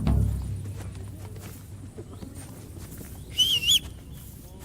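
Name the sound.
horse arriving in a video game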